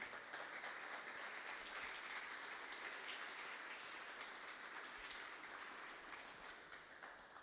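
Sustained applause from a church congregation, a dense, even wash of many hands clapping at moderate loudness that fades slightly toward the end.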